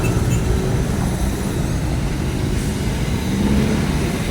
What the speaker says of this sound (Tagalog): So maraming sasakyan na